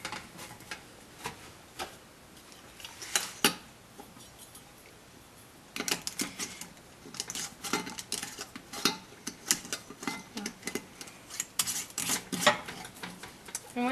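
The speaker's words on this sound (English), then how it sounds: "you'll put your lids on the jars and screw them on tightly" Glass jars being handled as their lids are screwed on tightly for homemade laundry detergent: a run of clinking, rattling and scraping taps, some sharp and close, with a busier burst of activity in the second half and no talk.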